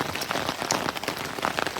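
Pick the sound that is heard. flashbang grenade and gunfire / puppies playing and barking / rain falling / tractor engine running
rain falling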